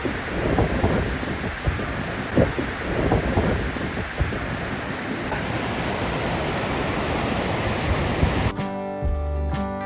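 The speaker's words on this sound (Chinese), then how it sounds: "桥上风很大，河水湍急，我们来听听它发出的声音。" At a suspension bridge on New Zealand's Hooker Valley Track, a rushing river and strong wind make a loud, continuous roar with gusty low buffeting, ending with a brief burst of tonal music.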